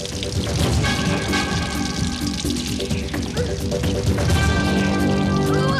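Water gushes steadily and loudly into a sealed room, a continuous rushing pour that fills the scene, close by, with a faint tonal hum and brief clinks beneath it.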